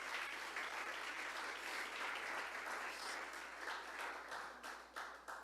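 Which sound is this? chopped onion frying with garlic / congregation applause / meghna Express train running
congregation applause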